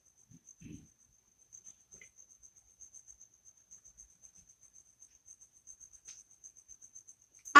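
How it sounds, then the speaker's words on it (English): A lone cricket chirps faintly and steadily in a quiet room, a thin repeating trill, ending with a sudden louder knock. "And then maybe the crickets are from the toilet, you think?"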